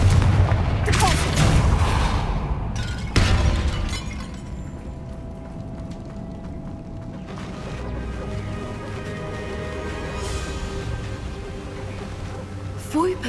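Confringo blasting spells burst in Hogwarts Legacy with a loud, shattering explosive crack and rumble, followed by a long, dense roar of debris and combat noise while voices speak over it.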